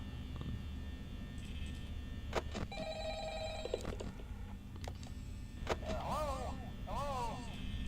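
A telephone rings in Five Nights at Freddy's, a faint electronic trill in bursts against a low steady hum, mixed with clicks and a few warbling tones.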